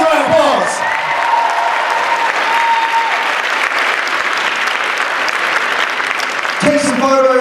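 A large crowd at the Perth Supanova 2015 cosplay contest breaks into loud, sustained applause that fills the hall evenly, with a voice briefly audible at the start and end over the clapping.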